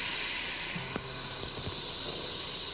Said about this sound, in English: The next step is to put on a lid so that we can steam the mussels until they open.